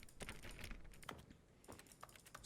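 Keypad buttons are pressed in The Stanley Parable, a quick flurry of soft clicky taps in an uneven rhythm, close and faint.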